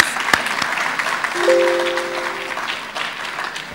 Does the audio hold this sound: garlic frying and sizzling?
no